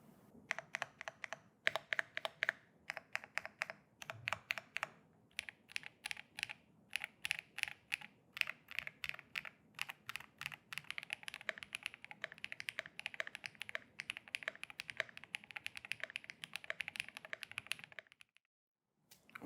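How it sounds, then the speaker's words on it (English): Rapid typing on a computer keyboard, a dense stream of crisp key clicks in uneven bursts with short pauses, close and clear with no voices, stopping abruptly near the end. "I just wonder how the keyboard would sound like."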